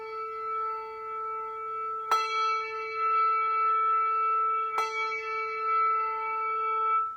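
A handbell rings out twice, each strike a bright clear tone with a long shimmering sustain that hangs between the strokes in a quiet room.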